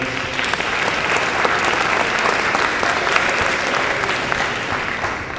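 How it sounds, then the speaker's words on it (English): A conference keynote audience claps steadily and loudly, a dense, continuous wash of applause lasting several seconds. "we should give Carolyn and Graham a round of applause"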